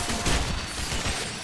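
Rapid gunfire in the video game Gotham City Impostors, a dense loud burst of continuous shots filling the short moment with no talk.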